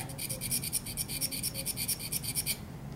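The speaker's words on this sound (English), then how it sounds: "maybe applying a little bit more pressure to sharpen this side of the instrument" A posterior dental instrument is sharpened by hand against a stone, giving a rapid series of short, rhythmic scraping strokes close by that stop just before the end.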